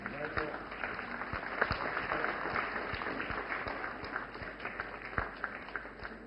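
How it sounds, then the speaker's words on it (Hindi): An audience at a women's empowerment event in India claps to welcome a woman drone operator receiving a drone from the Prime Minister. The applause is fairly faint and steady, with voices audible over it. "जोरदार तालियों से स्वागत करें"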